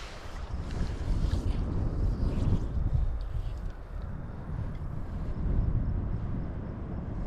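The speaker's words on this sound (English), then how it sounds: "That wind is killer, hey?" Strong wind gusts across flat water while fly fishing, a loud, steady buffeting roar pressing on the microphone that swells and eases, with no clear voices.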